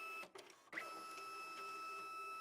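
Magicard Enduro Plus card printer feeding a cleaning card through its front slot, a steady mechanical whir with faint whines that runs close and continuous after a couple of brief clicks.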